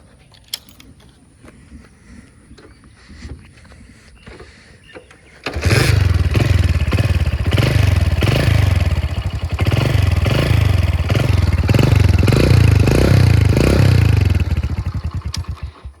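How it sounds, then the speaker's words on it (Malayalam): A used Hero Honda Splendor motorcycle engine starts after a few quiet seconds of faint clinking, then idles loudly and steadily with a throbbing, pulsing rhythm up close. "ജസ്റ്റ് വണ്ടിയുടെ എൻജിൻ സൗണ്ട് നമുക്കൊന്ന് കേട്ടു നോക്കാം"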